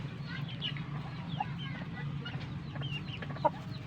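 A recovered backyard chicken clucks softly in short, scattered calls over a low steady background hum, fairly faint and close.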